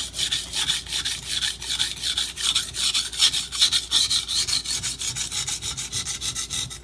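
A knife blade is drawn repeatedly across a sharpening stone, making a steady, rhythmic series of close, gritty scraping strokes with no speech.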